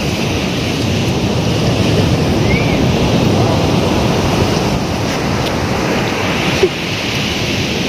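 Sea waves break on a beach at Thiruvanmiyur, a steady loud roar of surf with wind buffeting the microphone throughout, continuous and close with no talk.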